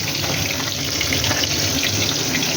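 A small splash of water goes into a taro paste cooking in a pan, producing a loud, continuous hissing sizzle close to the microphone with no voices.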